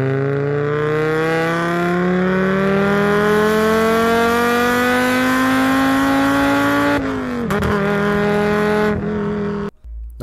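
Inline five-cylinder engine revving hard and climbing steadily in pitch, loud and close, then a quick shift drop, a few sharp clatters and a sudden cutoff near the end.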